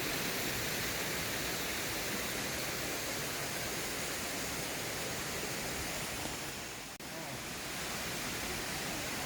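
Steady broadband rush of Nagyeong waterfall, a continuous roar of falling water that holds loud and even throughout, dipping only momentarily near the end.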